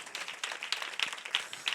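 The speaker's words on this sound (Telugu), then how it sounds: "చప్పట్లు కొట్టి ప్రభునామాన్ని మేము ప్రస్తుతం" A worship congregation claps hands together, a dense run of fairly close claps with a few sharper accents.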